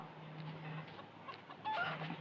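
Chickens clucking in the Bullet Angel: Xshot game soundtrack, steady and moderately loud over a low hum, with a brighter burst of squawking near the end.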